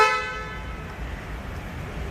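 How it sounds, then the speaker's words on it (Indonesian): Horn of a Mercedes-Benz GLS 450 AMG 4Matic (X167) SUV, one short loud honk that fades into a low idle hum and room noise. "Serta ini bunyi klaksonnya."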